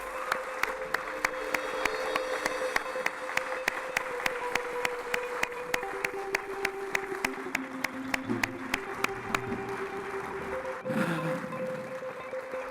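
Congregation applauding in a church during a service, a steady wash of clapping with a sustained sung or organ-like tone underneath and faint voices, fairly distant and even throughout.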